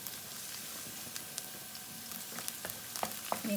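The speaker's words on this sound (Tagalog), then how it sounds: "Mikos-mikos natin guys ang bawang sa oil ng pesto, cheesy pesto." Garlic sautéing in cheesy pesto oil, a faint, steady sizzle and crackle throughout with a few light stirring clicks near the end.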